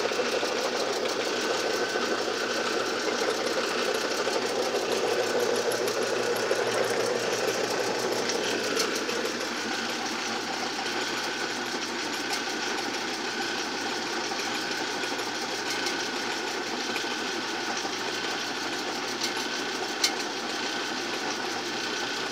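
A can crusher machine on sturdy motor mounts runs steadily, its motor giving a constant mechanical drone with a fast rattling vibration, close and even for over twenty seconds, with a single faint clank near the end.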